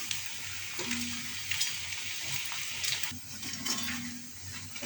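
Bottle gourd peel pakoras sizzle steadily in hot oil, a continuous close crackling hiss with occasional soft clinks of a utensil turning them in the pan.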